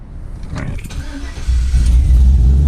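A cammed Chevrolet Silverado 5.3 LS V8 coughs and sputters, then settles into a loud, lumpy low rumble near the listener, with a voice briefly heard early on.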